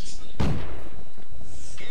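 A tank gun in World of Tanks fires once with a heavy, booming blast, close and loud, then the sound trails away under a continuous voice talking.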